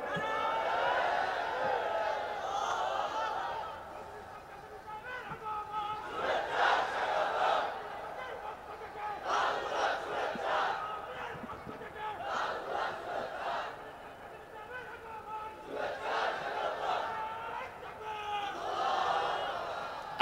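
Gathered listeners at a Bengali Islamic sermon, waiting for the preacher to arrive, shout the takbir chant in several rising and falling waves, a massed chorus of voices heard at a moderate distance.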